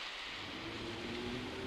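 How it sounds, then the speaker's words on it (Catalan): Heavy rain falling at night on a town street near a station, a dense, steady hiss that stays even and fairly faint throughout, with no voices. "Ai, quina manera de ploure, quina nit més inclement."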